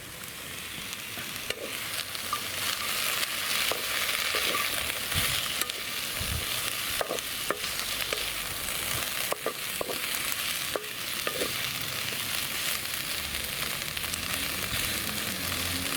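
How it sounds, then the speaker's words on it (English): Chipolata sausages frying in a wok over an outdoor titanium twig stove, a steady, close, hissing sizzle lasting throughout, dotted with small pops and the occasional scrape of stirring. "let's get them into the wok and get the chipolatas cooking"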